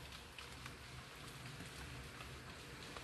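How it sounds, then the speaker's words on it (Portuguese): Heavy early-morning rain in Ireland makes a faint, steady, unbroken hiss heard from indoors. "Nossa, mas tá chovendo muito."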